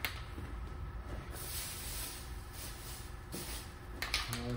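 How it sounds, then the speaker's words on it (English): Gravel guard coating sprayed from an aerosol onto a car body panel during a rust repair, a steady close hiss running for several seconds with a brief pause before ending. "we're just going to give it a spray."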